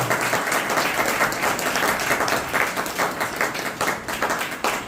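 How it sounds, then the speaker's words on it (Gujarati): A gathered crowd gives hearty applause, many hands clapping in a thick, continuous patter that stays loud and even from start to finish. "એમના માટે પણ જોરદાર તાળીયા"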